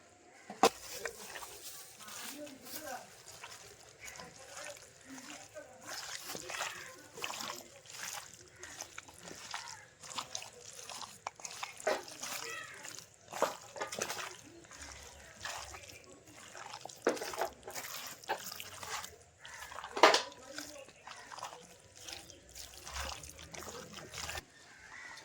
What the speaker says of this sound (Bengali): সরষের তেল, পেঁপেটাও কিন্তু এর সঙ্গে মাখিয়ে নেবো মাংসের মধ্যে ভালো করে